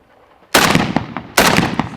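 Two loud, close shotgun blasts about a second apart ring out at a sporting clays range, each followed by a short echoing tail.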